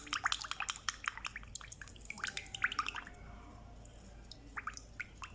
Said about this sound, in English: Make sure you stir together very well.